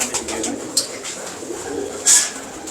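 Teddy pigeons in Wah Cantt coo softly in repeated low, throaty bursts, close by, with a brief louder flutter-like sound near the end.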